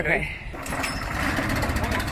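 A pressure washer's small engine idles with a steady low rumble, and a person briefly speaks over it near the start.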